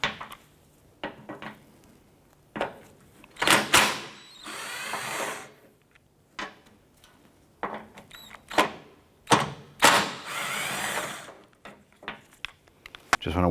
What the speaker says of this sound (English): Using a T40 Torx bit, we want to go ahead and remove this screw here